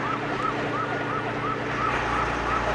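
A police car siren wails in a steady, repeating up-and-down cycle, loud and continuous over heavy road and engine noise, with no break through the stretch.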